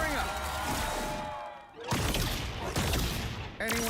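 A fireworks ability effect in the video game Marvel Rivals bursts as a dense run of crackling explosions and booms in several waves, mixed under energetic voices and game sounds.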